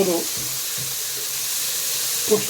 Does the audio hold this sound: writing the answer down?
no